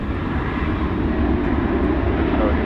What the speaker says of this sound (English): it's kind of a rare treat to see Turkish take off from over here on the west side